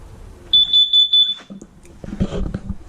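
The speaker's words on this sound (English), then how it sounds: "you have your CO detector. I suggest just pressing it every time you go out camping and make sure it's working" Carbon monoxide detector in a 2018 Jayco Jay Flight 29RLDS travel trailer sounding its test alarm, four loud piercing beeps in quick succession, followed by button clicks and rustling handling noise.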